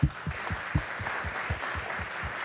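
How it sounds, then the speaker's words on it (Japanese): Audience applause for panelists at the closing session of a science forum, with a dense patter of clapping running steadily throughout, moderately loud and close, alongside a few sharp low thumps. "感謝の拍手をしたいと思います"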